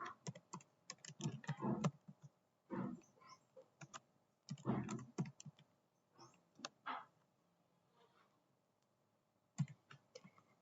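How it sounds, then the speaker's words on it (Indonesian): Computer keyboard keys tapped in irregular bursts while entering network switch commands for VLAN configuration, close and fairly quiet, with short pauses between clusters of clicks. "Ketikkan saja interface rank."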